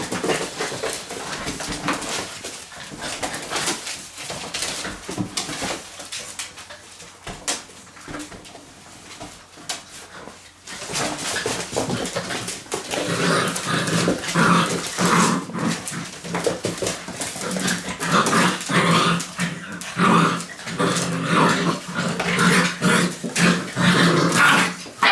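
Labrador puppies, 43 days old, play roughly together in a continuous stretch of growls, yips and whimpers that grows louder and busier partway through, with no talking.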